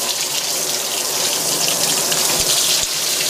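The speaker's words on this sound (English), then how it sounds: "As usual, I'm just going to pop some water in there." Water is poured steadily into a Fisher & Paykel Smart Drive GW712 washing machine, giving a continuous splashing, gushing flow that stays loud and even throughout with no talking.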